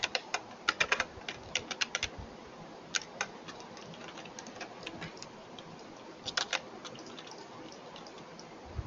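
Irregular, light clicking keystrokes on a computer keyboard as C++ code is typed, coming in quick clusters and single taps with short pauses, close but quiet, and no one talks.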